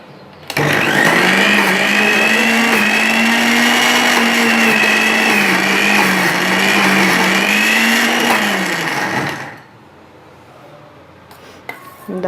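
A kitchen mixer grinder whirs at full speed for about nine seconds, grinding soaked lentils for dahi bhalla batter. The motor drone wavers slightly as the load shifts, then cuts off and leaves near silence with a few faint clicks.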